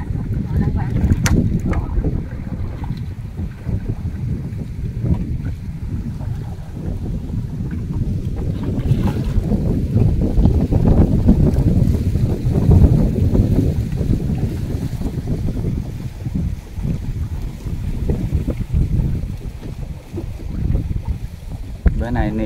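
Strong gusting wind buffets a boat on the water, a loud continuous roar with rumbling microphone buffeting throughout, broken now and then by faint voices.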